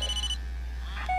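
A telephone rings inside the horror video game Blair Witch: short electronic ring tones, one burst at the start and another near the end, over a low steady hum.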